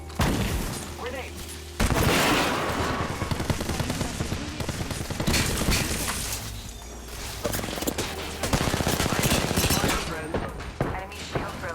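Heavy gunfire in Apex Legends fills the scene with dense, continuous automatic shooting and bursts, loud and close, while players talk over the fight.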